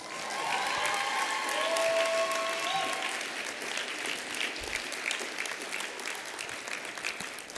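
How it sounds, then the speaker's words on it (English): Audience applause fills the hall at an award ceremony, a steady wash of clapping heard from the audience with a few faint voices over it early on, easing slightly toward the end. "I'm gonna need y'all to give them a big round of applause"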